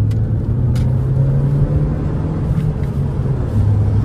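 A Mercedes A160 car engine pulls under acceleration, a steady low drone that rises slightly in pitch and holds strong and close for about four seconds, with no talk over it.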